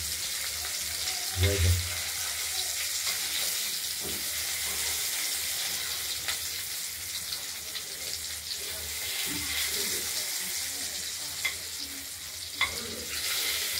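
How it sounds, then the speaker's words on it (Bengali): Peeled boiled eggs frying in oil in a pan for an egg curry, giving a steady close sizzle with a few louder clinks and stirring scrapes scattered throughout. "ডিমগুলোকে আমরা খোসা ছাড়িয়ে ভেজে নিচ্ছি"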